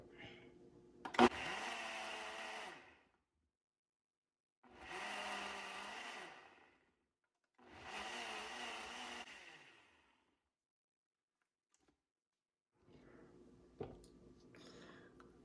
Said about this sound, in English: I have all my ingredients in my Ninja. We'll go ahead and start blending